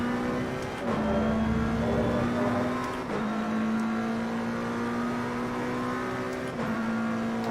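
A McLaren 720S engine in a racing sim holds a steady, loud whining drone, with brief dips at gear shifts about every two to three seconds before the tone climbs again; no one talks.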